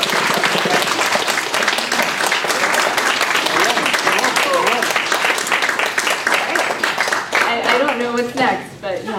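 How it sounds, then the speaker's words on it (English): Sustained audience applause fills a Sunday Assembly gathering, dense steady clapping at close range with voices cheering over it, thinning toward the end. "So you guys give Kevin and Heather two rounds of applause."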